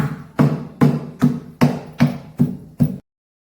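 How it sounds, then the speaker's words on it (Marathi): Eight steady thuds of half a kilo of jaggery being pounded into fine pieces, evenly spaced, close and loud, then sudden silence. "इथे मी 1/2 किलो गूळ घेतलाय, तो मी बारीक ठेचून घेते"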